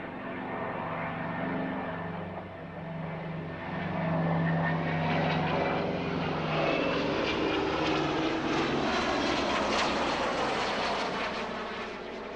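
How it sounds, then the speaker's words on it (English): Heavy propeller air tanker making a run toward a fire for a retardant drop, its loud droning engines building from a steady drone to a louder, sustained roar as it closes in, with no voices. "And the heavy air tanker, which will actually make the drop."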